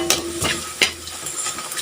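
Garlic and okra stir-fry in a hot pan, a steady sizzle broken by regular scraping strokes of a utensil roughly every third of a second, close and fairly loud.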